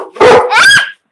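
A pet dog gives two quick loud barks close by, the first short and gruff, the second a higher, drawn-out yelp, then silence.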